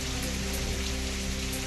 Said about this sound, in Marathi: पाथर्डी परिसरामध्ये मुसळधार पावसाची हजेरी.